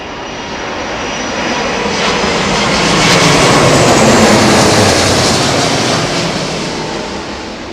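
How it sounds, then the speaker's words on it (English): An airliner landing in gusty wind at Heathrow Airport gives a loud, broad engine and wind roar that swells to a peak and slowly fades as it passes close by, with no voices. "watch the gear, the touchdown sequence of the undercarriage"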